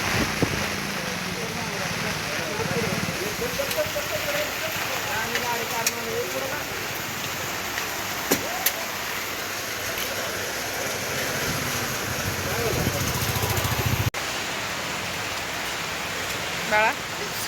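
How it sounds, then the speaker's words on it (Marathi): Heavy rain pours outside a cinema parking area, a continuous broadband wash with occasional splashes and knocks, fairly loud and close; a child and adults are faintly present under it. "हे बघा किती पाऊस चालू आहे"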